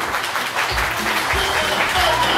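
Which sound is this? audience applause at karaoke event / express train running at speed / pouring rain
audience applause at karaoke event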